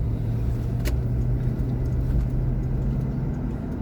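A car being driven, a steady low engine rumble and road noise held close and fairly loud throughout, with one brief click partway through and no talking.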